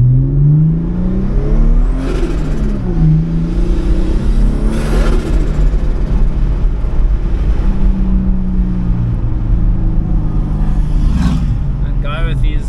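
A 2JZ-engined Toyota Hilux bakkie accelerating hard through the gears, the engine note climbing repeatedly and dropping at each shift, loud and close throughout, with talk over parts of it.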